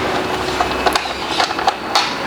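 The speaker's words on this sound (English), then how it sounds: "We really just have a little wing nut underneath the back of the seat here" A wing nut is undone beneath the seat of an Apollo RFN Ares Rally Pro electric motorcycle, making a run of small, close metallic clicks and turning scrapes with no talk.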